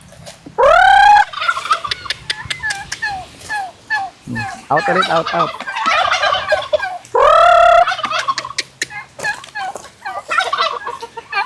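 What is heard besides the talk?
turkeys gobbling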